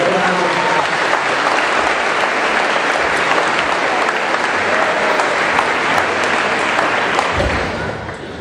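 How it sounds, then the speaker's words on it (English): A large crowd at a 2015 high school graduation ceremony applauds the band. Loud, dense, sustained clapping fills the hall and fades slightly at the very end. "First, we can get a round of applause for the band."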